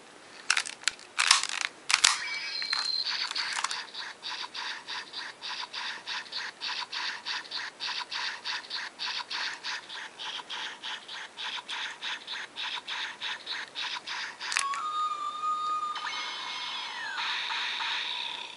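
A Power Rangers Samurai Shodophone toy gives off an electronic sound effect: a sharp opening chirp, then a steady, rapidly pulsing loop that repeats alone at close range before ending in a few higher electronic tones.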